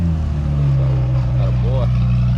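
A McLaren 720 pulls out at an exotic car show, its low engine drone steady and fairly loud throughout, with a brief rising tone near the end and faint voices around.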